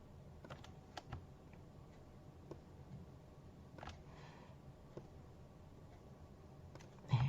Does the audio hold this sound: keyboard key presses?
yes